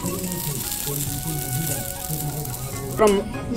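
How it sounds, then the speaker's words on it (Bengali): Fish fries in a hot wok with a continuous hiss of oil, while a voice talks over it throughout and a brief clatter comes near the end. "দেখো বন্ধুরা সায়নের মাছটা ভাজা হয়েছে"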